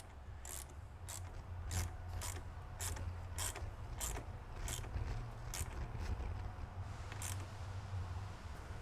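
A ratchet clicks in repeated short bursts while tightening the posts of R4T Group 31 battery terminals, close and fairly quiet over a steady low hum, with no talking.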